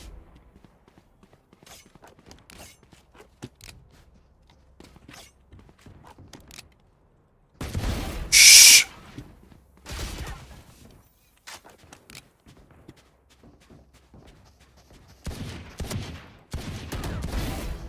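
Gunfire in the video game Valorant: scattered clicks and footsteps give way to loud bursts of shots, including one sharp, very loud volley midway and another cluster near the end.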